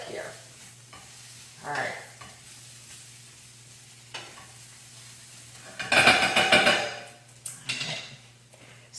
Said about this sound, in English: Let me give my sweet potatoes a turn. Mix some of those spices up.